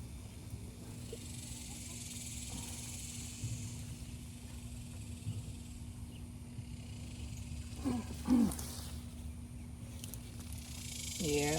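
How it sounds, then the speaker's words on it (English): Cicadas drone steadily in a backyard garden during an in-ground potato harvest, a faint, continuous buzz with a few brief louder rustles partway through. "The cicadas are just annoying me. I don't like that sound."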